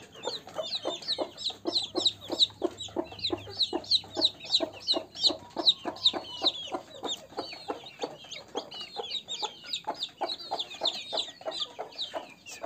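Young broiler and kampung crossbred chicks chirp in a dense, continuous chorus of high, rapid peeps close by, with no voices.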